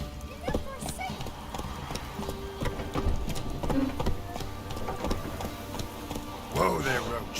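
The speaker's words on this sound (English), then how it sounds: "Whoa there, Roach" Hooves clip-clop in a quick, steady gallop from a horse in The Witcher 3 video game, close and continuous, with game music and voices talking over it.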